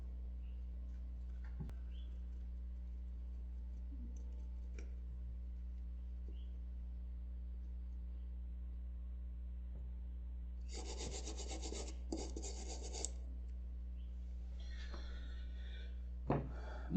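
A Chinese cell phone circuit board is scrubbed clean, with brief faint rasping brush strokes in a couple of short clusters over a steady low electrical hum.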